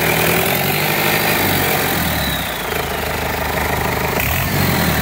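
A new Cummins Marine B4.5 150HP diesel engine running, a steady loud rumbling drone with a fine rapid firing pulse, close and continuous, heard alone without talk.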